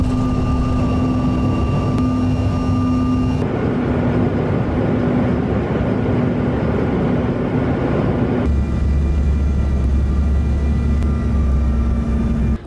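Steady, loud engine drone fills a very small passenger airplane's cabin on a snowy-weather domestic flight in Japan, with a constant low hum and faint tonal whine that shifts slightly in pitch partway through, with no talking.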